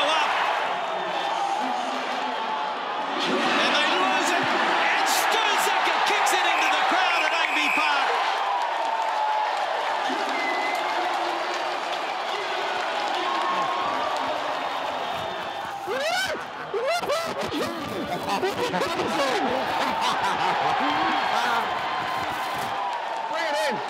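Stadium crowd at Amy Park roaring and whooping after a go-ahead score, loud and sustained with scattered claps and shouts, with talk over the noise throughout.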